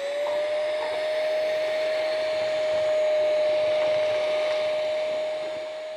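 A shop-style vacuum sucks cold ash out of a wood stove that has sat unlit for a week, giving a steady, loud whooshing roar with a constant whine running through all six seconds, and no one speaks.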